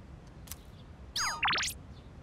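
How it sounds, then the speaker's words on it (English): Text message notification chime in the video game Persona 3 Reload: a short sequence of bright, rising and sweeping electronic tones, played alone and fairly loud. "Got a text message."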